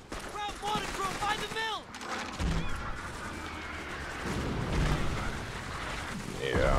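Gunfire in the World War II shooter Call of Duty: Big Red One, with rapid bursts and shots crackling through the fight, rumbling explosions underneath and someone talking over parts of it.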